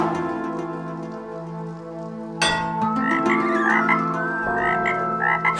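Frogs croak in a dense chorus, steady and fairly loud, with a sharper burst of overlapping croaks about halfway through, during an outdoor cooking competition.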